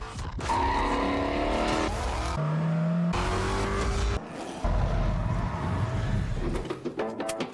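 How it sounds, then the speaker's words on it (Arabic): A new 2016 Ford Mustang roars through a brake test, engine loud and close, with surging acceleration, abrupt stops and tire noise in several bursts. "صار وقت نكمل نحن بالفورد ماستنج الجديده لنعرف التاديه تبعها كيف"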